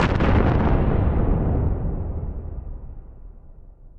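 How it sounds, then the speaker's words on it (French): An atomic bomb blast rendered as a huge, loud boom that hits at once and then rolls away in a long, slowly fading rumble, with no voices. "la bombe atomique"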